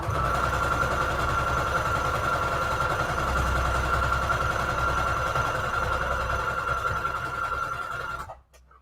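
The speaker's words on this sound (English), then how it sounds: "we're gonna sew kind of close to the edge." A sewing machine stitches close to the edge of soft fabric, a steady rapid whir with a fast needle rhythm running loud and continuous before stopping abruptly near the end.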